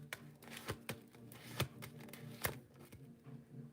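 Tarot cards being shuffled by hand: soft, quiet riffles and sharp slaps that come in uneven bursts, each card strike crisp and close.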